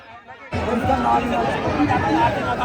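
A protest sit-in crowd at Jantar Mantar in Delhi, rising suddenly into a dense, close babble of many voices talking at once, with occasional bumps, continuing steadily throughout.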